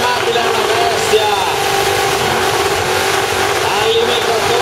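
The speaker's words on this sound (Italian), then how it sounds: "Al limitatore il motore." A 1970 Plymouth Cuda's engine roars steadily at the rev limiter during a hill race event, loud and continuous with crowd or commentary noise underneath.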